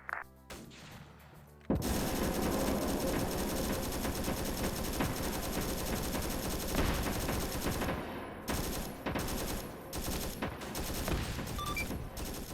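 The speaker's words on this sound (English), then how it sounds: "We're taking fire." Dense, sustained automatic gunfire fills a Vietnam War video game operation, rapid bursts blending into a continuous loud fusillade, with brief drops and a few scattered gaps near the end.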